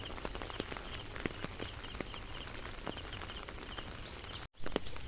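Steady rain falls by a pond at a farmhouse in the Sundarbans, West Bengal, a continuous soft hiss with scattered drop taps, fairly faint and even, with a brief dropout near the end.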